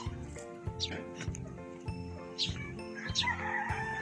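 Several sharp turkey calls, gobbling and crowing-like bursts, ring out close by over a barnyard, with a voice speaking in between.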